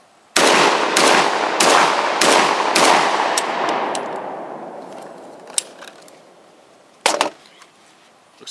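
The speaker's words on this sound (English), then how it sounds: "First 5 rounds from the Saiga 12." A Saiga 12 shotgun fires Remington nine-pellet double-aught buckshot, five loud, evenly spaced blasts in quick succession with a long echoing decay outdoors, followed by faint clinks and one sharper click.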